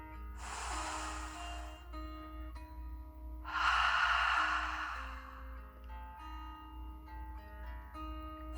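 A deep breath drawn in and then let out in two slow, close, breathy rushes over soft background music.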